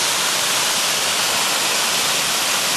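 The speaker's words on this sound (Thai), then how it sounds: "ที่น่าเก็บภาพความทรงจำน้ำตก" Continuous roaring rush of the Ang Phak Nam waterfall in Thailand, a dense, steady hiss with no breaks and no voices.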